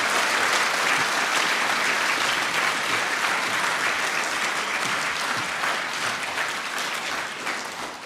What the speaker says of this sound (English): perhaps this might be the moment for a cheer and applause for all the family and friends and members of staff from our graduates.